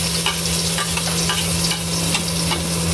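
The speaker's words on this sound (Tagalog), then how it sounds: "Igisa lang po natin yung sibuyas Ayan. at saka yung bawang." Onion and garlic sautéing in a pan, a loud, steady sizzle with soft stirring scrapes repeating throughout and a constant hum underneath.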